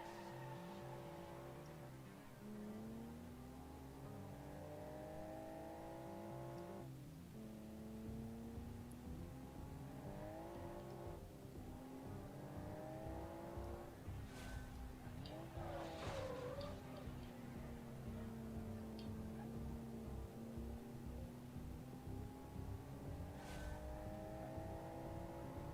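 A 2.4-liter boxer six sports car engine in a racing game hums steadily, its pitch rising and falling through gear changes, with brief tire squeal and skidding bursts, fairly quiet throughout.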